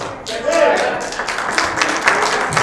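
Audience clapping at a city council meeting, a scattered round of applause from the public gallery mixed with voices and murmuring in a large room.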